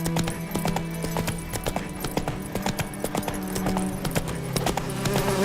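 Hooves of Roach, a horse in the video game The Witcher 3, clip-clopping in a steady walking rhythm, close and clear over background game music.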